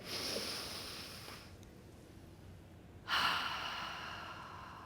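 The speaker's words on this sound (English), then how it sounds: "take another deep breath in" An audience draws a deep breath in together, then lets it out in a soft sigh. A second, louder breath follows at close range, with no talk.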